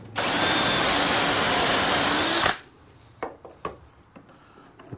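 A power drill runs loudly and steadily for about two and a half seconds, boring a dowel hole through a Dowelmax jig, then stops, followed by a few light knocks and clicks.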